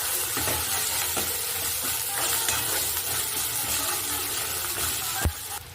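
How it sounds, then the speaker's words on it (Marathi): Coriander sizzles and fries in hot oil in a pan for a curry, a steady close crackling hiss with occasional stirring scrapes and a brief knock near the end. "तेलामध्ये कोथिंबीर परतली आहे।"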